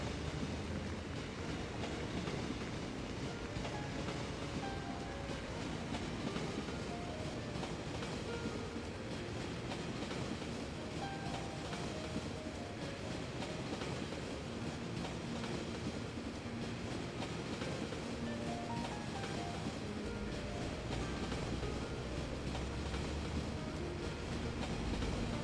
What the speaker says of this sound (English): the tram continues down its own tramway